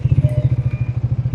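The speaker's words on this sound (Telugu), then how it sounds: "సో ఐడ్లింగ్లో మనకి ఇదన్నమాట సౌండ్." A 2026 Triumph Tracker motorcycle engine idles close by, a low, steady, rhythmic thrumming pulse with loose mechanical clatter, heard alone.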